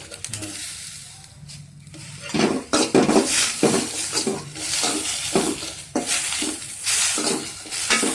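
Grated coconut goes into a pan of elephant yam skin chutney, followed by repeated close stirring and scraping of a spoon against the pan in uneven bursts, with faint sizzling beneath.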